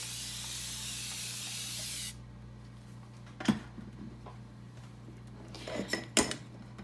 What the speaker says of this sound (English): First, I'm going to just spray it with water.